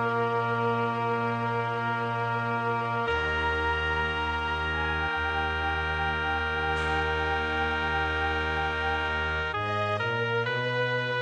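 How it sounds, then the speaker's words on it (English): MIDI music from the Little Big Adventure video game plays through Windows Media Player on a Windows machine, dense sustained synthesized chords changing a few times, continuous and loud with no voices. "if you use the same MIDI files and play it using Windows Media Player on the Windows machine, they sound like this."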